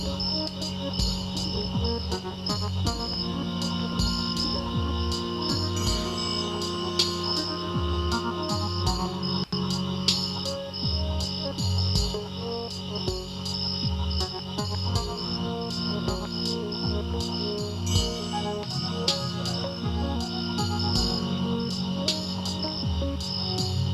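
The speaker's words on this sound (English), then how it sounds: "before I even noticed the cricket noises" Crickets chirp steadily throughout the track, a dense, continuous pulsing of insect calls layered over low, dark droning music and scattered melodic scribbles.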